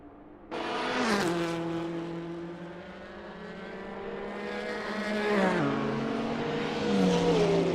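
A race car engine screams through an overtaking move at the Foxhole during a 24-hour race at night, heard loudly and alone, with the engine pitch climbing and dropping through several gear changes.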